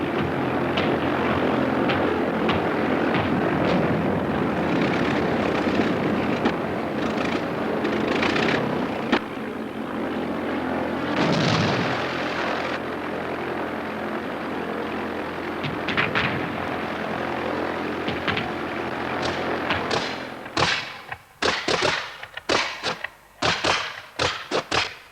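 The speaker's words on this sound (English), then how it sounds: "The man who operated this anti-aircraft gun and incidentally shot down one of our own pilots is Michael John Harris" Model aircraft flying over a miniature battle scene while an anti-aircraft gun fires, a steady engine drone giving way to a rapid volley of sharp bangs near the end.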